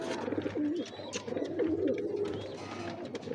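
Steady low cooing from Neelay Kamagar pigeons in Lahore, repeated rolling coos close by over a constant background hum.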